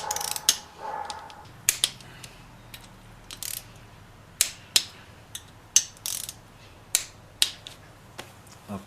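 Sharp clicking of a ratchet wrench snugging engine bolts on a 1973 Honda CB750, short bursts of ratcheting clicks repeating irregularly, close and alone over a quiet background.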